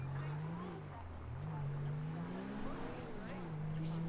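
A car engine in GTA V's LSPDFR mod, revving and dipping in pitch as the car makes a quick U-turn, with a steady motor drone and a faint tire scrub throughout.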